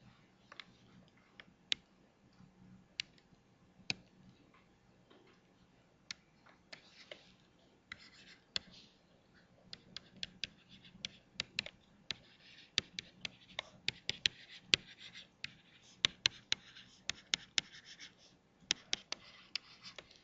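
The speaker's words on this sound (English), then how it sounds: "Let me go down here and write it." A math problem is written out by hand, a quiet run of pen scratches and sharp taps on the writing surface, sparse at first and then more frequent, close by.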